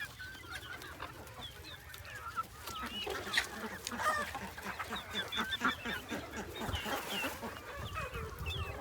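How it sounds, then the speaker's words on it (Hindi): Several hens in a poultry coop cluck and call in overlapping bursts, a busy chorus of close and farther birds with short squawks, some goose-like honking calls, and steady farmyard background noise. "हमारे पास मुर्गियाँ जब वो वाली आवाज़ें निकालना शुरू हो गई हैं, जो ये अंडे से पहले निकालती हैं"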